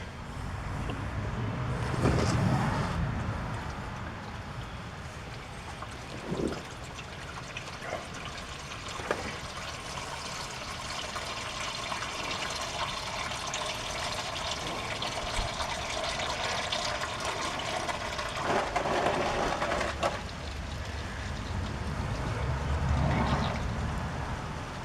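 Motor oil drains steadily out of a 2014 Chevy Silverado during an oil change, a continuous close trickle and gurgle that runs throughout with a few faint clunks and knocks mixed in.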